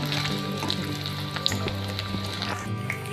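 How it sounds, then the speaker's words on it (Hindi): Potato pieces frying in hot oil for dam aalu, a steady dense sizzle and crackle with small pops, close and continuous. "तो देखिए आलुओं को हम फ्राई कर रहे हैं।"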